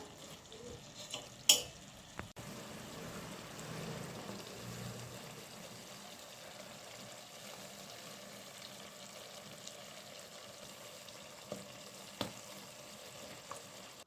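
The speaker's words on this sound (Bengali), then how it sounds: "ভুড়িটা আমি এই যে কষিয়ে নেব" Beef tripe sautés quietly in a pan, giving a faint continuous frying hiss broken by a few sharp clinks and scrapes of stirring.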